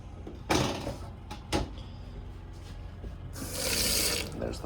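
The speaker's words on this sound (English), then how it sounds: "There's the faucet." Kitchen faucet in a tiny home briefly running, a steady broadband rush of water near the end after a couple of sharp knocks from handling the fixtures.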